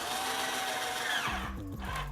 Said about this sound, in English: we drill the pilot holes so that, number one, our screws will go in straight